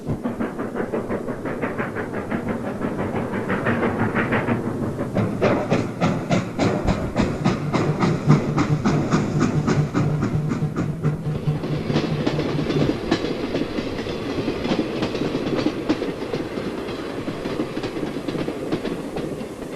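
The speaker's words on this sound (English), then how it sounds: "Another K5 Pacific on a commuter at Walwick, New Jersey." A K5 Pacific steam locomotive hauls a commuter train at Walwick, New Jersey. It makes a loud, continuous rumble with rhythmic wheel clatter and hissing that rises and shifts as the train passes close by, with no talk.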